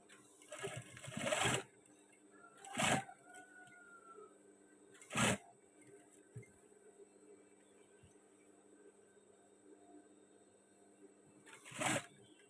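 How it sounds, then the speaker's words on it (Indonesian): A sewing machine stitches the collar of a men's batik shirt in several short, quiet bursts separated by pauses, with faint handling sounds between runs. "sekarang kita langsung menjahit pas bagian sini"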